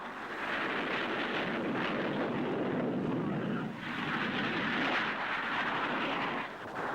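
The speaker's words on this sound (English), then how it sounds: "The HP 115 was built to study low-speed flying characteristics. Its unique handling qualities are here shown in this Dutch roll." Handley Page HP 115 research aircraft in low-speed flight performing a Dutch roll, a steady loud roaring engine rush with wind noise that dips briefly midway and then resumes, with no speech.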